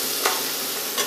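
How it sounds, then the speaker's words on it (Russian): Beef for beef stroganoff sizzles steadily in a hot pan, a loud continuous frying hiss with a couple of brief louder crackles. "Когда вы жарите мясо, лучше, если только один слой"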